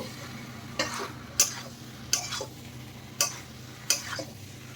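Jackfruit and potato pieces stirred with spices in a pan give a quiet low sizzle, broken by about five crisp clinks and scrapes of the spoon against the pan at irregular intervals, with no talking.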